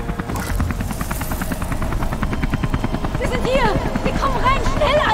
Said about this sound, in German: Ich kann jetzt hier rüberfliegen. Helikopter!